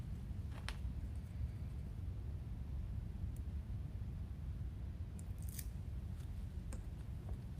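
Scissors snip through wreath mesh in a few sharp, separate cuts over a steady low background hum, closer clusters of snips near the middle and toward the end.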